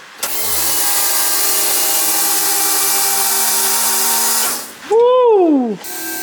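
A Mitsubishi Lancer engine running on E85 fuel cranks and catches, then settles into a steady idle close by. A sharp rev swoops up and falls away near the end.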